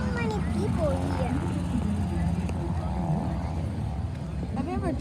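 Airplane flying low over the ground at a crowded air show, a steady loud engine drone filling the whole stretch with faint crowd noise beneath.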